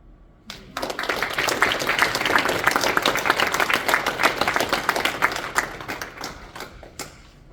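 Audience applause for winners of a university creative writing and art contest, a dense, steady round of clapping from a crowd filling the room, starting abruptly and continuing without talk.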